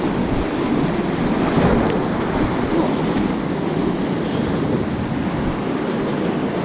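River rapids on the Buckhannon River at high water rush as a loud, continuous, dense roar heard from a kayak, with no voices.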